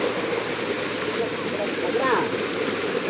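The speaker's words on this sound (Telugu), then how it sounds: "ఇక్కడ ఒక వాటర్ ఫాల్స్ లాగా చిన్న వాటర్ ఫాల్స్ చూపిస్తాం చూడండి" A small waterfall on the Mandalapatti trek in Coorg rushes in a constant, full wash of flowing water, close and steady throughout.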